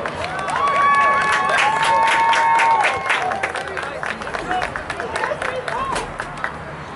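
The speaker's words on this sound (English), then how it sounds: "Let's give them another round of applause." A school audience applauds and cheers for the seniors, with a loud burst of clapping and whistles that tapers into scattered claps and crowd murmur.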